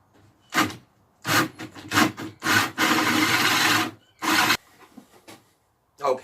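A drill with a pilot bit bores a centred hole into pallet wood for a birdhouse, heard as several short, loud rasping bursts and then one longer grinding stretch, all close-up and separated by brief pauses.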